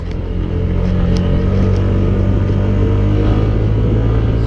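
Honda PES 125 scooter engine held under heavy throttle while climbing a very steep hill, a loud, steady droning roar that fills the whole stretch with no break.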